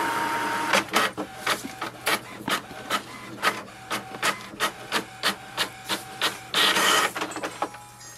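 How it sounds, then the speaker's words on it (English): An HP Envy Pro 6432 inkjet printer works through a page: a steady run of rhythmic mechanical passes and clicks, close and fairly loud, with no talking. "it will send a command for the printer to print the"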